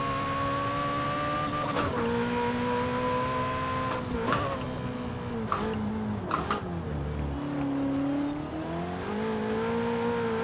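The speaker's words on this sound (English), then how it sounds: "the way this car actually revs out, but it just sounds so mellow at the top of the power band" Ferrari 488 Pista engine in Forza Horizon 4 video game, a continuous engine drone that rises and falls in pitch through revs and gear changes, with sharp clicks between shifts.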